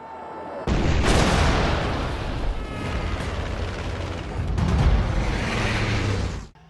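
A loud, rumbling explosion erupts and roars on with crackling debris, then a second deep blast swells before the noise fades out abruptly.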